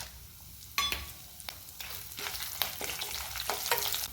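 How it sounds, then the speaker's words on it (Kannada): Green and dried chillies dropped into a hot tempering of urad and chana dal, with a continuous sizzle and repeated sharp scrapes of a spoon stirring the pan. "ಈಗ ಅದೇ ಒಗ್ಗರಣೆ ಹಾಕೊಳ್ಳೋದು 2 ಹಸಿಮೆಣಸಿನ್ಕಾಯಿ 2 ಒಣಮೆಣಸಿನ್ಕಾಯಿ ಹಾಕೋತೀನಿ."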